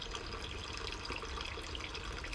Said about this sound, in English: So we got our water kicked on.